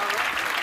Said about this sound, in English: I think we applaud this.